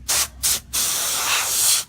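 Compressed air blasting dust out of an Apple eMac: two short hissing spray bursts followed by a longer continuous loud hiss, close up.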